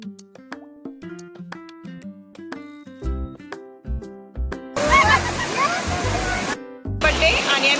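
Rushing water from the Vanlakshmi waterfall bursts in as loud, hissing roars between stretches of tuneful, voice-like music, cutting in and out abruptly near the end.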